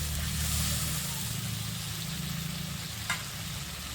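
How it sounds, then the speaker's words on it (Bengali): Spice paste of grated ginger and tomato with a little water frying in a pan, giving a steady close sizzle throughout, with a brief clink near the end. "এবারে এই মশলাটা ভালো করে একটু কষিয়ে নেব।"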